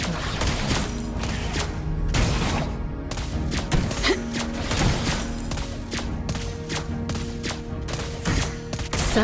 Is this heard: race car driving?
no